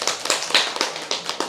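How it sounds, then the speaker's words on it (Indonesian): Students applaud in a classroom after a poem reading, a short burst of sharp irregular claps from a small group, close and fairly loud. "tepuk tangan"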